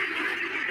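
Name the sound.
ducks calling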